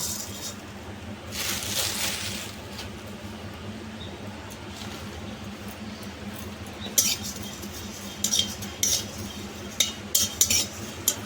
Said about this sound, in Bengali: কড়াটা এবার গরম হয়ে গেছে এবার মৌরিটাকে কাঠখোলাতে ভেজে নেব